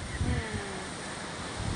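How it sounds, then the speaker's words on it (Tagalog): Steady outdoor wind buffets the microphone with a continuous rushing roar, loud and close, with no voices over it. "Oh, dito ang hangin."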